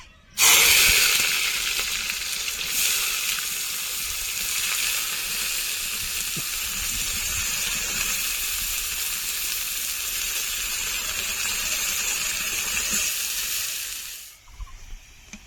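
Onions sizzle loudly in hot oil for a biryani garnish, a dense, steady, close frying hiss that starts abruptly and runs unbroken before cutting off near the end, with no voices.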